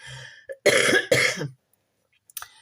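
A couple of harsh throat-clearing coughs in quick succession, close and fairly loud, followed by silence and a faint brief noise.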